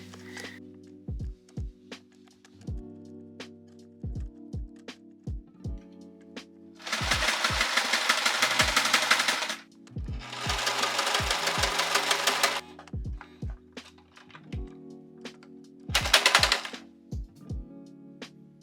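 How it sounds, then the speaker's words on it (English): A sewing machine stitching fabric for a top and mini skirt runs in several loud, buzzing bursts, with sharp knocking clicks of the mechanism between them, and the needle breaks partway through. "There's the needle broken."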